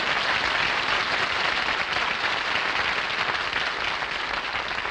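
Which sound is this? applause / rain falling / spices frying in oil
applause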